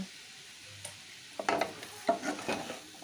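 A spoon scrapes and stirs vegetables with tomato and turmeric powder in a pan, a few soft clinks and scuffs over a faint sizzle, close and quiet.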